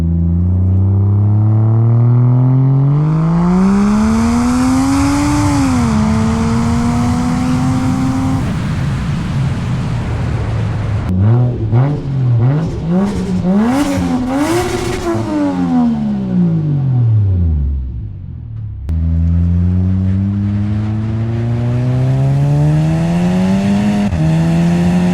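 A lowered Toyota JZX100 Chaser pulls hard through the gears, its engine rising and falling in pitch with repeated loud revving and shifts, heard from inside the cabin with steady road noise and no talking.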